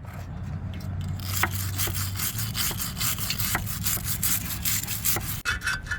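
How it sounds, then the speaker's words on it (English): A chisel scrapes old paint off a boat outdrive in quick, repeated rasping strokes, close and loud, one stroke after another with no talking. "using a chisel, it is much easier to scrape the old paint than using a spatula"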